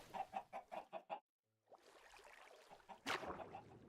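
A run of about six rhythmic clucks from Minecraft chickens, close and clear, then a brief silence before softer game ambience and another flurry of clucking near the end.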